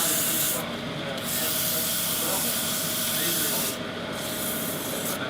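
Sandpaper at 180 grit rubbing a spinning piece of Tasmanian black heart sassafras on a wood lathe, a steady broadband hiss with a brief softening partway through, close and continuous.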